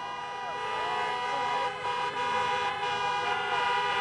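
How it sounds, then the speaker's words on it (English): Car horns honk repeatedly at a Pennsylvania campaign rally amid busy traffic, overlapping toots sounding through a constant street din. "Honk!"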